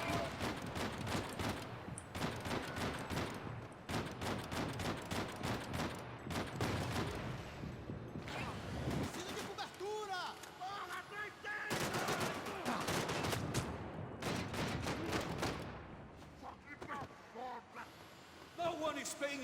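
Repeated bursts of gunfire fill a firefight in the Max Payne 3 video game, rapid automatic volleys and single shots coming in dense clusters with short lulls, mixed with game voices and a person talking over the action.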